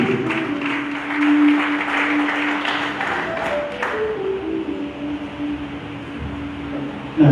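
An audience applauds steadily to welcome the vice-president of the South African community in Ghana at a gathering. The dense, continuous clapping is loud and sustained, with tonal hum threaded through it.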